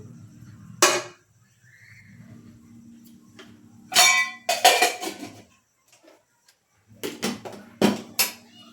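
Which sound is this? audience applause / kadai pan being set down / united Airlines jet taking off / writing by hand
kadai pan being set down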